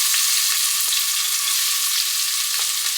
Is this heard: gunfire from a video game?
no